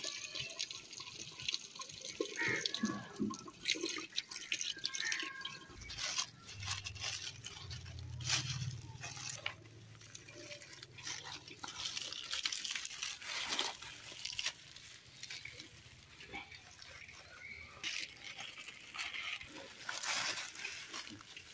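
An item is washed by hand under running tap water in a household setting, a continuous splashing stream with scrubbing scrapes and clatter, fairly faint and close, and it goes on throughout.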